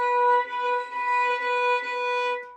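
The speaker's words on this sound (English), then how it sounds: "you don't have crunchy sound or a sound like this" A single violin note bowed with too much pressure, giving a crunchy, scratchy edge to the sustained tone. It holds steady for about two and a half seconds, played alone and close.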